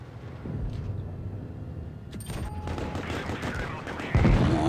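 Tank cannon fire in World of Tanks Blitz amid a busy battle, several sharp bursts and booms over rumbling engine noise, with a heavy blast near the end and some talk mixed in.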